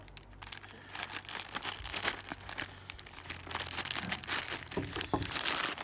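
Plastic packaging of a TEMU parcel crinkling and rustling up close as it is torn open, in busy irregular bursts with a few sharper rips.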